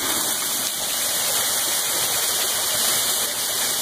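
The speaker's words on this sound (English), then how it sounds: "Yes, it's raining." Steady, dense rain pouring down outdoors on a Memorial Day Monday, a loud continuous wash of water like a heavy shower with no breaks from start to finish.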